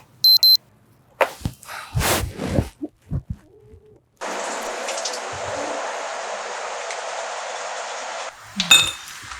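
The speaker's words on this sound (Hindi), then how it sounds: "दीदी यार ये अलार्म तो बंद कर दिया करो ना" An alarm clock beeps in short bursts at the start and again near the end of a household morning scene, with clinking dishes and kitchen clatter in between.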